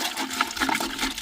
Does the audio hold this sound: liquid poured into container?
yes